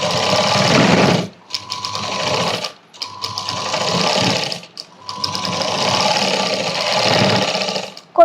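An electric sewing machine stitches a cross-cut blouse with a tape strip along the front, whirring in three close bursts of rapid stitching separated by short pauses.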